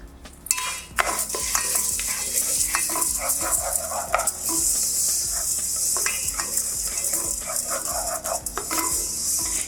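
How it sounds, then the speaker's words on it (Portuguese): About a cup of rice is lightly toasted in a cooking pot, giving a steady sizzle with repeated scraping and stirring against the pan, with no talking. "a gente vai colocar ele para ele dar uma leve tostada na panela."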